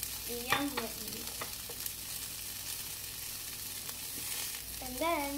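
Tomatoes and onions fry in a pan with a steady, close sizzle and occasional stirring, broken by a couple of short squeaky tonal sounds near the start and end.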